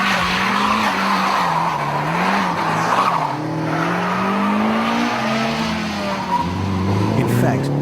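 Group of Toyota AE86 Sprinters driven hard around the car park at Calder Park Raceway, engines revving and tires squealing in long skidding slides that continue for the full stretch, loud and fairly close.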